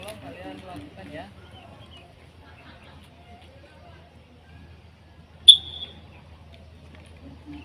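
A teacher's single short, sharp whistle blast partway through a school long jump lesson, clear against a quiet room where someone speaks briefly beforehand.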